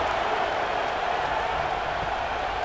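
A stadium crowd cheers in the College Football 26 video game during a North Carolina Tar Heels versus NC State Wolfpack matchup, a steady, dense roar that holds at the same level throughout.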